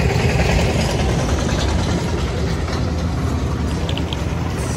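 A John Deere tractor hauling a trolley idles nearby with a loud, steady low rumble and faint rattling mechanical clatter, continuous with no voices.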